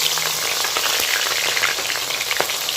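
Sliced onions fry in hot oil and ghee for beef biryani, giving a steady, dense crackling sizzle with scattered pops and stirring scrapes, close and continuous with no voices.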